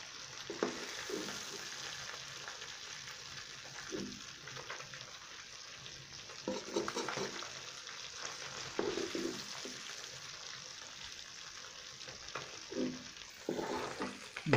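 Fish frying in hot oil, a continuous soft sizzle with intermittent bursts of crackle and stirring, fairly quiet and without voices.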